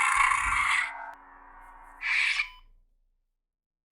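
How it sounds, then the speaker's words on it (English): A KR Saber Regiis lightsaber fitted with a Proffie board makes a blade lock-up effect: a loud crackling buzz that thins to a steady hum, then a second short crackling burst that trails off into silence. "Lock up."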